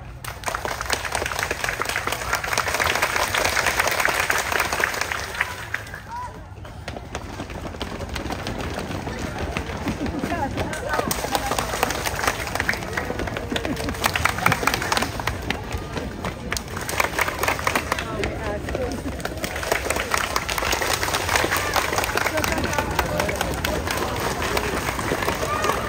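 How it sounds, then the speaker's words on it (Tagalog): Sustained audience applause from a crowd at a National Week for Overcoming Extreme Poverty gathering, dense clapping holding steady and loud, dipping briefly and then swelling again, with voices mixed in. "ngayon kapag inikot ko to, lalakas ng palakpak"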